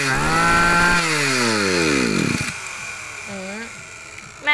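A backpack brush cutter's two-stroke engine fires after a pull start, revving high then winding down in falling pitch before settling to a rough idle, loud and close with no talk.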